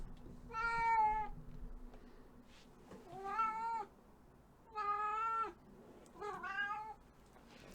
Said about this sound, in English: Oh, my cat's back.